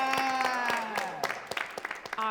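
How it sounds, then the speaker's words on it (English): Audience applause at a talent show, a short spell of scattered claps under a sustained musical tone, thinning to separate claps near the end. "Can we give another round of applause for Roger?"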